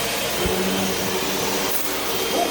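A Hoover vacuum cleaner runs at home with a steady, loud motor roar and airflow hiss, a brief knock near the start and no talk over it.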